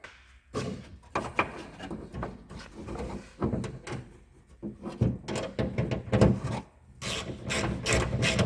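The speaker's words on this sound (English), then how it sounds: "now we can put the nut on this driver's side and tighten it down" Working on a Jeep Cherokee XJ liftgate latch, a nut is tightened down with a ratchet, producing close, repeated clicking and rasping bursts in irregular runs with brief pauses between them, no voices.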